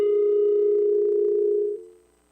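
A steady telephone line tone hums alone for nearly two seconds, then cuts off and fades into quiet.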